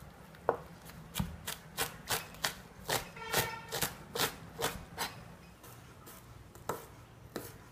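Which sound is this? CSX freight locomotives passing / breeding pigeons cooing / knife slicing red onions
knife slicing red onions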